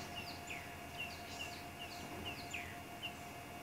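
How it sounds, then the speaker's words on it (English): Birds call repeatedly around a termite mound at sunset in the Sabi Sand bush, with short, bright chirps and whistles scattered across a steady outdoor hum at moderate distance. "And I can just hear bird calls all around me."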